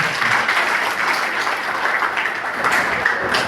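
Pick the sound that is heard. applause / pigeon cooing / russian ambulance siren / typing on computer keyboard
applause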